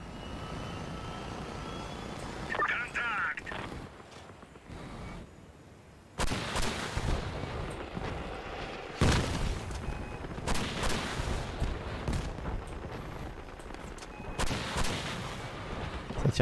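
Weapons fire in the vehicle combat game Crossout as sharp, heavy booming shots, several distinct blasts spaced irregularly over a constant engine-like drone, fairly loud with no talking.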